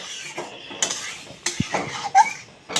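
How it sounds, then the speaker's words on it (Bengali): A utensil stirring spiced curry in a pot, with several distinct metallic clinks and scrapes against the pot at an uneven pace, close and clear with no talk. "একদম ভালো করে নাড়িয়ে দেবেন যাতে সাইডে একদম যদি মশলা না থাকে"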